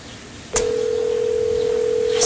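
A telephone tone sounds on an unanswered call, a steady single-pitched tone starting after a brief click and holding alone, fairly loud, for about two seconds.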